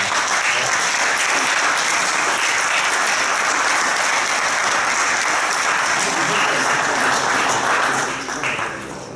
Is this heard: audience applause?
yes